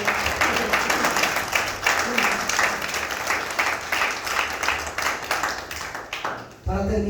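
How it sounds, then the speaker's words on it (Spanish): A church congregation applauds during a service, a sustained burst of many hands clapping that runs loud and steady for several seconds, then cuts off as a voice starts speaking near the end. "Denle un aplauso al Rey."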